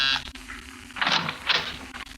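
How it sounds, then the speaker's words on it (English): A hotel door buzzer pressed twice in a 1950 radio drama scene, two short bright buzzing bursts of similar length with a brief gap between them, fairly close over a quiet background. "I was pressing a hotel buzzer."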